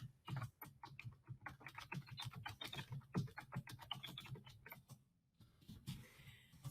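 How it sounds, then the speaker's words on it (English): Rapid, steady clicking of keys on a computer keyboard, fairly close and alone, with a brief pause near the end before the typing resumes. "I'm going to type my statement in here."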